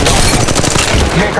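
Rapid automatic gunfire bursts loudly in the Apex Legends Mobile battle royale shooter, dense overlapping shots with booming impacts filling the whole moment.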